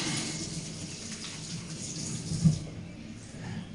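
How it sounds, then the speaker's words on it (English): Water runs from a kitchen tap as oily hands are washed, a steady close rushing splash with a brief louder splash partway through, and no voices. "Right, wash my hands."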